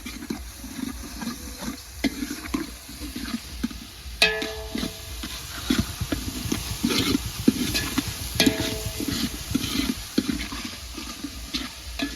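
Potatoes fry in a hot spice tempering while being stirred, a continuous sizzle broken by repeated scraping strokes across the pan, close and moderately loud with no talking.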